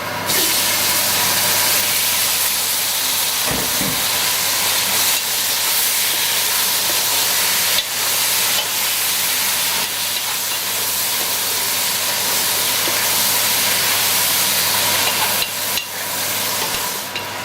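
Eggplant pieces hit a hot pan of Surinamese masala curry and set off a loud, steady sizzle and hiss that runs unbroken for the whole stretch, close and dense, with occasional faint clatters and no talk.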